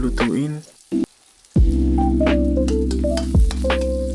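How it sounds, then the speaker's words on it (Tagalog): Garlic and onion sautéing in a pan for caldereta, cooked toward golden brown, a close sizzle that cuts out briefly, then resumes loudly with clinks and scraping of a utensil, a voice heard briefly at the start. "Ginigisa ko nga pala ng gusto ang bawang at sibuyas para maging golden brown."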